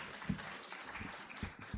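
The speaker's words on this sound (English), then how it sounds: "Please give him a round of applause." Applause from an audience at the Partnering for Change 2022 event in New Delhi, a fairly faint, steady wash of clapping with a few sharper hand claps standing out near the end.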